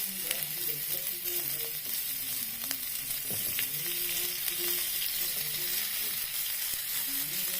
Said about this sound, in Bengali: এবার এই পেঁয়াজ কুচিটা দিয়ে দেবো।